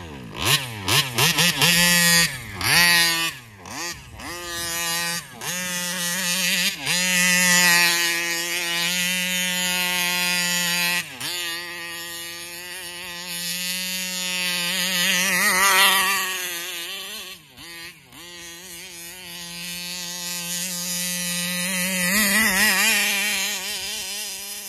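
A Taylor RC 35cc reed engine with a suspected carburetor fault runs close by with a loud, raspy two-stroke buzz, revs surging and dipping repeatedly as the throttle is worked, and it never settles into a smooth idle.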